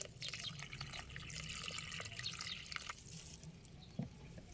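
Water pours steadily into a container holding kangkong (water spinach), a continuous splashing trickle with a few drips, moderately quiet and without talk.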